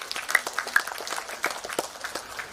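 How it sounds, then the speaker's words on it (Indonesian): A crowd at a provincial halal bihalal gathering applauds, a dense patter of many hands clapping at moderate loudness for a couple of seconds. "Tepuk tangan sekali lagi."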